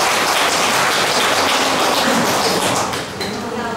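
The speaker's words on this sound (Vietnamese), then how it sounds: "Xin đề nghị mọi người nhiệt liệt vỗ tay để mừng họ" Loud, dense applause from an audience at a clan association meeting in Hai Phong, honoring a 101-year-old elder, with a steady wash of clapping throughout that eases slightly near the end and faint voices mixed in.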